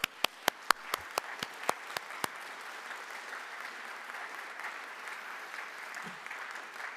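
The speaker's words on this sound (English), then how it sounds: "So give yourselves a huge round of applause for being here today" An audience applauds at a brass band festival results ceremony in a concert hall, opening with a few loud, separate claps before settling into steady, moderately distant crowd applause that carries on to the end.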